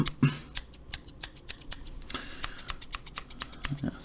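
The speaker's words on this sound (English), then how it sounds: "I'll just use 2 scissors just to be more precise" Two pairs of scissors snip at hair in quick, crisp, close-up clicks, with an irregular rhythm of bursts and short pauses in a quiet room.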